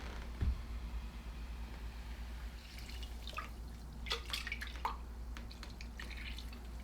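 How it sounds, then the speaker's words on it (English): Leftover beer poured into a cooking pot to rinse it while making smoked birria, heard as a faint, uneven run of drips and splashes against a low steady hum, with no talk. "We'll rinse that with that excess beer."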